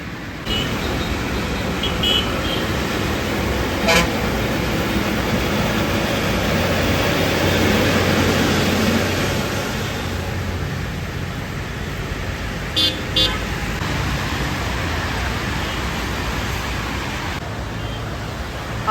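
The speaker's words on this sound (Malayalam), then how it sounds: "ഈ ഹൈവേക്കിലൊക്കെ വണ്ടികൾ പോകുമ്പം നല്ല ഇരപ്പായിരിക്കും" Busy highway traffic roars steadily as vehicles pass close by, with a couple of short horn toots partway through and no clear talk.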